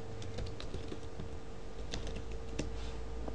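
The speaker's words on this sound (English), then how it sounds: "So let's just open up the terminal again. And just type OpenShot." A command is typed on a computer keyboard into an Ubuntu terminal, a steady run of close, light keystroke clicks with no talking.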